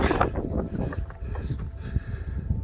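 Gusty wind roars across an exposed mountain summit on Beinn Liath Mhòr in Torridon, Scotland, in cloudy, mixed weather, buffeting the microphone with a loud, continuous rumble throughout.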